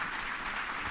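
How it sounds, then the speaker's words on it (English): Applause from a conference audience at the Dubrovnik Forum, a brief, even wash of many hands clapping, faint and distant in a large hall. "This is your applause."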